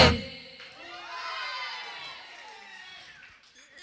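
Young audience at a children's show cheering and shouting in a sustained crowd roar after a sharp opening hit, fading gradually over a few seconds.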